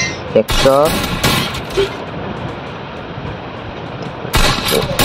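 Shotgun blasts in the Free Fire mobile battle game: a few loud, sharp bursts separated by gaps, with someone talking over and between the shots.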